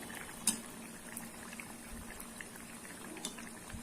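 Sweet maida rava appam fries in oil with a faint, steady sizzle and soft bubbling. One brief tick sounds near the start, and no voices are heard.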